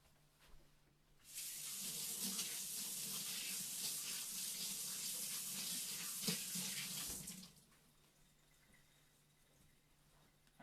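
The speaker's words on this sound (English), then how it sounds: "let me wash my hands because they're yuck" Hands are washed under a running kitchen tap, with a steady rush of water that starts abruptly, holds for several seconds and stops, close by and without talk.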